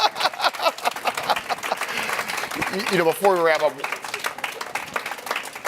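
Scattered clapping from a small group at a live corporate broadcast, uneven and sparse, heard under a voice speaking, with brief laughter partway through.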